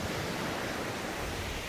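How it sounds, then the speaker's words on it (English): A waterfall pours straight onto the shore at high tide with no beach exposed, giving a close, steady broadband rush of falling water with no breaks. "The waterfall's there and there's no beach."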